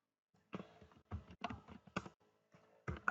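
A command typed on a computer keyboard, several quick bursts of key clicks separated by short pauses, close and quiet with no talk.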